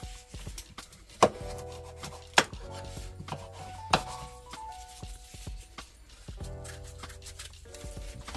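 A small spoon scrapes and scoops out melon flesh, producing close, soft rubbing scrapes punctuated by three sharper knocks against the rind.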